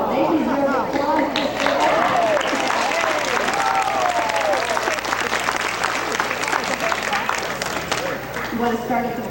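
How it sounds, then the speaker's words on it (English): Guests at a high school alumni banquet give sustained applause, dense clapping that fills the room while voices talk and call out underneath. "Oh, they deserve applause."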